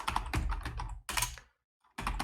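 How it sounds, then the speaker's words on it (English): Rapid typing on a computer keyboard during a Python coding session, dense bursts of clustered keystrokes with a brief pause before another quick run, close and clear with no talking. "I hope I'm not typing too fast"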